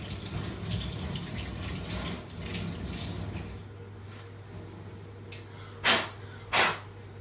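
Tap water runs steadily over a lower chrome denture model as it is rinsed at a sink, then cuts off, leaving a low hum and two sharp bursts of splashing.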